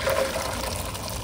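Boiled chickpeas going into cold water in a home kitchen, heard as a short, close splashing and pouring sound with a light trickle, steady and brief.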